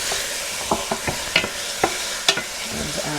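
Chopped onions sauté in a pan under a constant soft sizzle, with a few sharp clicks of a spoon or spatula striking the pan.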